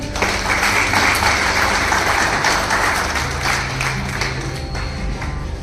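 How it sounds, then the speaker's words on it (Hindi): Audience at a gathering applauding an honoured guest, a continuous wash of many hands clapping, loud and sustained for several seconds. "एक बार फिर बीच में आदरणीय महोदय के लिए एक बार ताली हो जाए"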